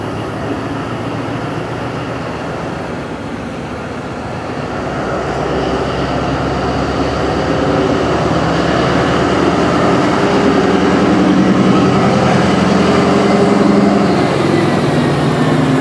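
Loud, steady rumble of a diesel shunting locomotive standing at a station, with a deep continuous drone that grows slightly stronger partway through, heard close with no talking.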